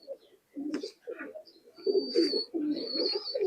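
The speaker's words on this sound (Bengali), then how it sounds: "ইমামদিন কবুতর।" Imamdin pigeons coo close by in soft, low, throaty bursts that repeat in a loose rhythm, with a few faint chirps and small rustles between the calls.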